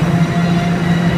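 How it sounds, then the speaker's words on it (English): A train on the line to Scarborough rumbles steadily nearby with a low droning hum and faint rail noise, loud and continuous for about a second. "we're just waiting for the train"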